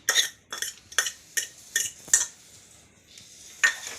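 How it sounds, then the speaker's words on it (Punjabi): Boiled potatoes with green chillies are mashed in a bowl, giving about eight sharp, spaced clinks and scrapes of utensil against dish, close and clear in a quiet kitchen. "ਹੁਣ ਪਹਿਲਾਂ ਆਲੂ ਨੂੰ ਚੰਗੀ ਤਰ੍ਹਾਂ ਮੈਸ਼ ਕਰ ਲੈਣਾ ਕੋਈ ਗੰਢ ਨਹੀਂ ਰਹਿਣੀ ਚਾਹੀਦੀਗੀ"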